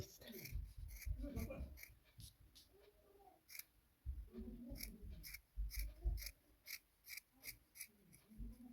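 Small scissors snip yarn while a bird figure is being made from knitting yarn, crisp repeated cuts close up, with someone speaking Kazakh quietly between and over the snips.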